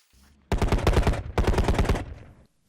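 Two rapid bursts of automatic gunfire, loud and close, each a fast string of sharp cracks separated by a brief pause, from Kurdish Peshmerga positions on the road to Mosul.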